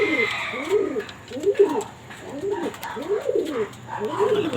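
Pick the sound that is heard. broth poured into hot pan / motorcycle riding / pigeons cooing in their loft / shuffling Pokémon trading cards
pigeons cooing in their loft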